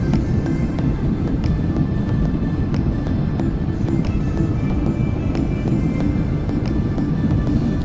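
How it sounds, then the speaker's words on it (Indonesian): Steady, loud, low roar of an AirAsia jet airplane landing, heard from inside the cabin, with faint rattles and knocks over the rumble. "Badan pesawat yang kunaiki semakin mendekati daratan"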